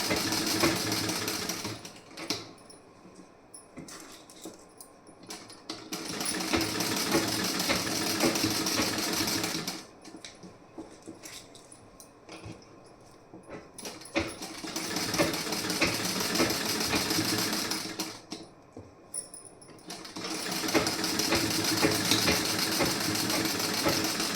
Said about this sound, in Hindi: इस तरीके से आपको सिलाई लगानी है।